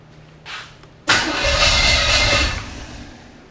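A 1980 Chevrolet Camaro's 5.7-liter small-block V8 is cranked on a first start attempt: a brief starter whir, then the engine catches loudly and runs roughly for over a second before dying back down.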